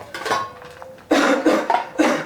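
A short run of harsh coughs, three or four bursts close together after a brief quiet start, fairly loud and near.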